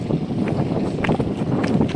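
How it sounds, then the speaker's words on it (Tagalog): Gusty wind buffets the microphone with a steady low rumble and roar, rising and falling in uneven surges. "Ang hangin dito."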